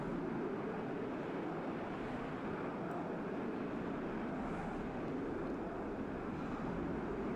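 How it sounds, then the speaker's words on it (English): A fighter jet in the strategy game WARNO roars past overhead as a broad, steady rushing drone that stays fairly faint and even throughout, with no voices over it. "Oh, I'm hearing some kind of fighter jet."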